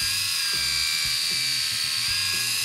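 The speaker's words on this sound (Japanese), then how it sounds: "こんな感じでね剃ることができるそうです" A small electric shaver from a gadget lucky bag buzzes steadily and loudly while trimming hair on an arm, a continuous high-pitched motor whine with faint low knocks underneath.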